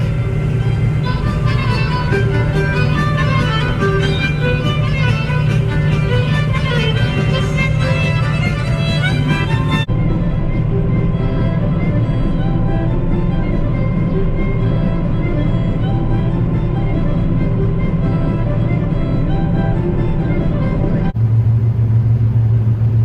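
A combine harvester unloads wheat into a truck, a loud, steady engine rumble with a continuous grinding drone that shifts in tone partway through and never lets up.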